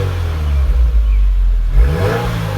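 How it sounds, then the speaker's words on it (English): A rebuilt 2017 Subaru WRX with its stock exhaust idles, then revs up briefly, giving a loud, low engine rumble recorded close up with no talking. "we're gonna give it some revs once it warms up"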